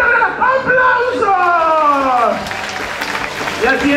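An audience at a pirate show in Puerto Vallarta claps while an amplified announcer talks over it, with a brief cheer; the applause sits under the voices throughout.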